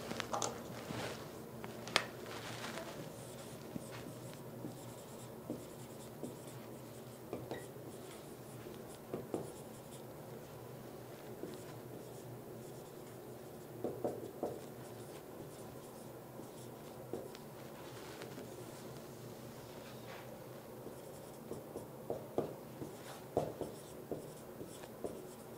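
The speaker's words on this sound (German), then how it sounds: "Und das ist schon mal das Erste, was ich hier gerne an die Tafel schreiben wollen würde." An orange marker writes on a board, with faint, continuous squeaky scratching strokes and occasional small taps recurring throughout a quiet room.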